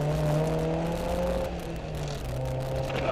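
Off-road car engine held at full throttle, a loud, sustained high-pitched revving drone that dips slightly in pitch partway through before climbing again, close to the microphone with no talking.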